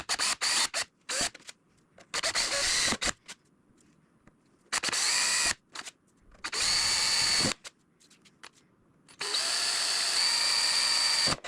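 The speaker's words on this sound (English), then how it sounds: "Now I'm going to go ahead and try drilling a couple of holes and then clean this out." A small power drill whirs in several bursts of a second or two, stopping and starting while drilling holes in a model P-51D Mustang fuselage, close and fairly loud with silent gaps between.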